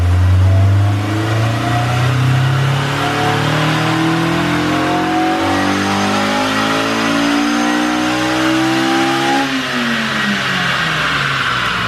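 A Honda S2000 with an airbox mod and header is revved on a dyno. Loud and close, the engine note climbs steadily over about nine seconds before easing off, with no talking.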